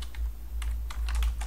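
Keys clatter on a computer keyboard in short bursts of crisp clicks, close by, over a steady low hum, with no voice.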